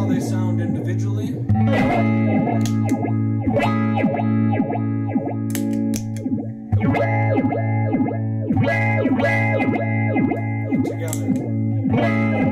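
Guitar played through an effects pedal with two modulation effects, one on a sine wave and one on a square wave, heard in turn: chords with pulsing, rhythmically chopped tremolo and steady repeating throbs, loud and clear with no talking.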